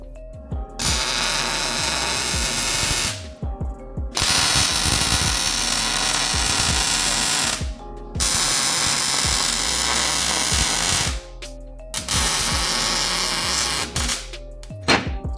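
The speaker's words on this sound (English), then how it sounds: "I'm going to weld these spark plugs on the rest of the way" Welder fusing spark plugs onto metal, four long loud crackling buzzes separated by short pauses, close and steady, no talk.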